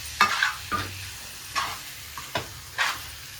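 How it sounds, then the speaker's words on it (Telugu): Raw mango pickle mixture being stirred, with about six separate scraping strokes spread evenly across the clip, fairly close and alone. "మామిడికాయ తొక్కు వేసుకునేసి బాగా అయితే కలుపుకోవాలి."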